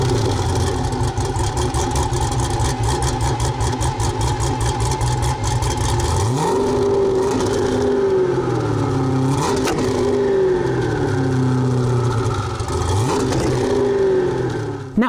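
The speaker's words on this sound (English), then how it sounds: "Take a listen to a startup from the Venom F5 and then a couple of revs." A Hennessey Venom F5 hypercar with an American V8 idles with a loud, close, lumpy burble, then takes several sharp revs that climb and fall back, one after another.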